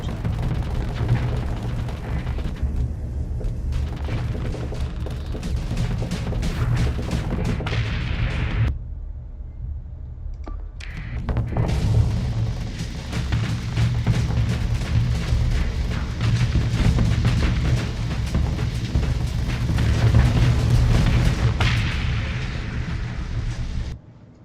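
Torpedo explosions in the space combat game Starsector produce loud, continuous booming and rumbling blasts. The barrage stops for a brief moment partway through, then resumes just as heavy.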